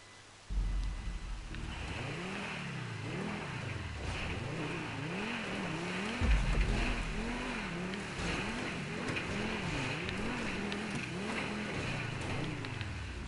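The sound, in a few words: car engine revving from throttle in a PS4 video game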